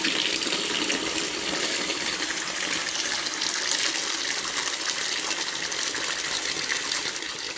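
Cold water runs from a tap in a sauna under renovation, a steady, close gushing stream that continues without a break and with no voices.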